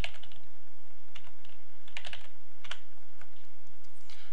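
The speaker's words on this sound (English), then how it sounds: "I'll click Yes and type Bob." Quick, crisp keystrokes on a computer keyboard, a short flurry of close clicks typing a short name into script supervisor software, with no one speaking.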